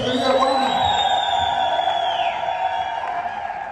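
Church congregation at a Sunday service clapping and ululating in praise, a dense sustained wall of high trilling voices and crowd noise over steady applause, loud and continuous throughout.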